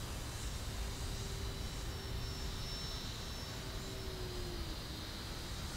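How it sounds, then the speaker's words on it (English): A distant engine drone from an E-flite Air Tractor remote-control airplane flying aerobatics, holding steady with faint rising and falling whine, under a wash of broadband hiss, with no voices. "Precision aerobatics all day with this plane."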